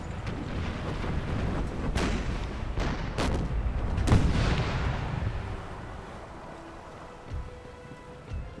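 Cannon fire from a naval broadside in Empire Total War, a game battle between Great Britain and Scotland, with several heavy booms that fade into a long rumbling tail and a few faint later thuds.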